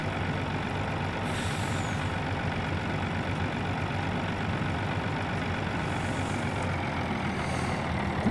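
A truck engine idles steadily in Farming Simulator 19 while the truck is stuck on a farm field. It is a constant low rumble with a brief hiss of air near the start and again toward the end.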